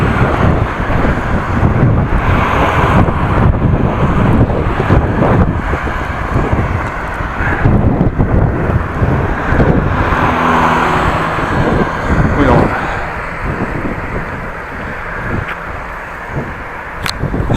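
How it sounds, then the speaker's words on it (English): Cars pass one after another on Scharreweersterweg in Appingedam, heard by a pedestrian waiting at the roadside, with steady road roar and wind buffeting the microphone throughout. "A lot of cars, so we have to wait a bit don't want to be run over."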